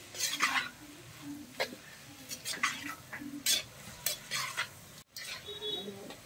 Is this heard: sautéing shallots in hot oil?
yes